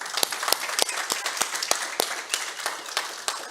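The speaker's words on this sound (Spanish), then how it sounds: "pido un aplauso para el grupo de alabanza" Church congregation clapping for the worship band, a dense close burst of applause with distinct individual claps standing out in a fairly regular rhythm.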